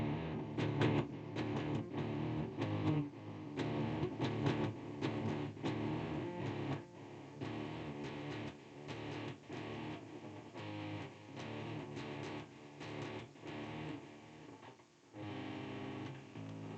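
Distorted electric guitar plays a power chord section, a dense, loud run of rhythmic palm-muted chugs and sustained chords with a short break near the end, played alone without talk.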